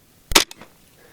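Single sharp shot from a .22 Long Rifle carbine during an ammunition test, close and loud, a brief crack followed by a quick fading echo.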